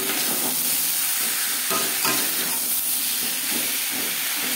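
Potatoes frying in a pan with ginger and green chili paste, tomato and turmeric, giving a steady hissing sizzle throughout with faint intermittent stirring scrapes underneath.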